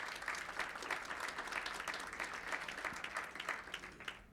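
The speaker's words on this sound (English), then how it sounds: "So I'd like us to give her a warm round of applause." Steady audience applause at a milestone celebration for an organization's 21st anniversary, a dense wash of many hands clapping evenly throughout at moderate volume, with no speech over it.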